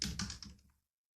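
A short burst of computer keyboard typing, a quick run of close, crisp key clicks lasting under a second before falling silent.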